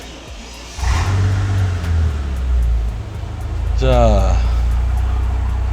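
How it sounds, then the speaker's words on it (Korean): A Mercedes-Benz W215 CL65 AMG engine cranks and fires, then settles into a loud, deep idle with a brief rise in revs; someone speaks briefly over it. "CL65 엔진 스타트."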